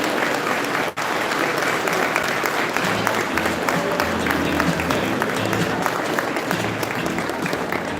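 Gala crowd at the APACC annual dinner giving board leaders and past executive directors a warm round of applause, dense steady clapping filling the hall with faint music beneath.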